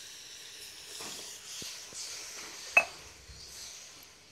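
Water poured into a pan of spinach curry cooked with yogurt, a soft steady hiss and sizzle throughout, with a few light clinks of utensils and one sharp clatter midway; no talking.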